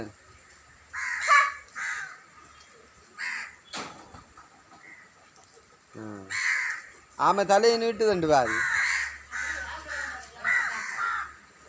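Crows caw loudly and repeatedly near a home during a food offering, with harsh calls scattered through the clip and people talking in between.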